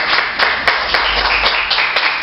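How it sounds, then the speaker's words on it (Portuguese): Church congregation claps in rhythm at an evangelical service, a steady run of sharp, evenly spaced claps, close and loud. "Aplauda o Senhor."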